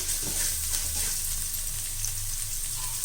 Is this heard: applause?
no